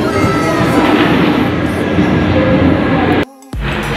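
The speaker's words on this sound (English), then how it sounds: "Train is coming." A commuter train pulls into a station, its loud, steady rumble filling most of the clip before a brief drop and return near the end; no one speaks.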